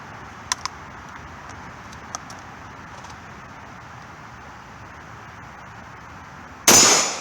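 A handgun in a slide-release drill: a long quiet stretch with a few faint metallic clicks, then one loud, sharp gunshot near the very end.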